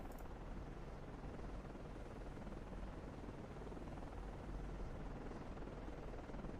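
A helicopter drones in Cold Waters, a steady, dense rotor and engine roar that holds at an even level throughout with no speech.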